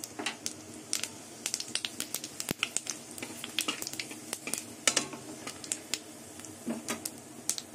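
A bay leaf, dried chili and whole cumin seeds sizzle in hot oil, close up, with rapid irregular crackles and spitting pops over a soft frying hiss. No one speaks.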